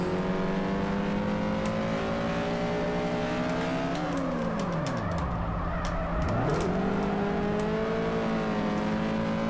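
A car engine in the drift game Drift Street Japan drones at steady revs, then dips sharply and climbs back up twice as the driver shifts and accelerates, loud and continuous with no talking.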